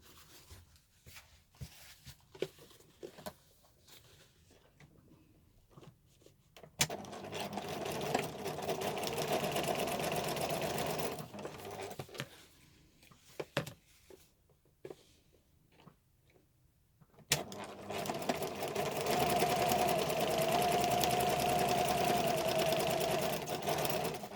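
A sewing machine stitches bum bag lining in two long bursts of steady, fast whirring, separated by quiet pauses filled with small handling noises.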